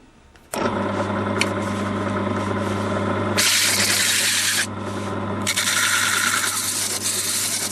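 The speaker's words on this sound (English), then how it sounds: "I'm going to put this in my bench drill and set the bench drill" A bench drill hums steadily while 60-grit sandpaper grinds down a wooden stick dulcimer soundboard top, harsh abrasive rasping bursts coming and going loud and close over the motor drone.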